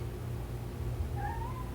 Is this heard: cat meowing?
yes